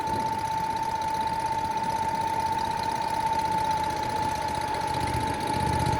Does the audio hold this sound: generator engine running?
yes